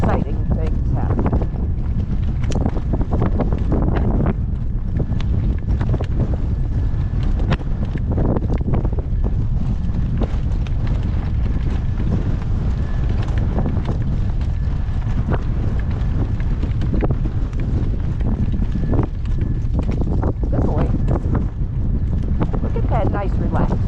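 Gale force wind roars steadily and loudly across the microphone throughout a horse ride, a constant rushing buffet with low rumbling gusts and no pause.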